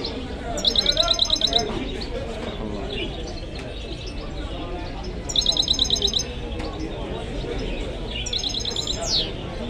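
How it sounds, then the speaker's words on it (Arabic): Songbirds at an outdoor bird market, with bursts of rapid, bright chirping trills recurring at intervals over a busy crowd murmur and background chatter. "من احسن الطيور اللي كاينين في السوق"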